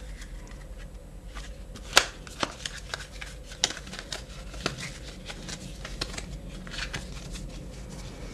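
Tarot cards being shuffled and drawn, a steady run of soft riffling and papery flicks with a few sharper slaps, close and moderately quiet over a low background hum.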